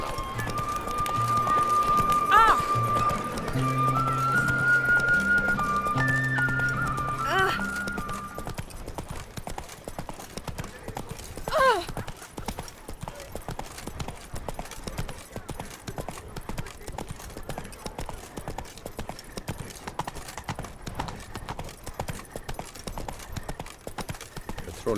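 Hooves of Roach, Geralt's horse in The Witcher 3 video game, clop steadily at a run in the first seconds over game music, then fade under quiet ambience with a brief voice exclamation.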